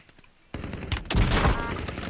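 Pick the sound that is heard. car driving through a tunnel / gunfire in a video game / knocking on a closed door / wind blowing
gunfire in a video game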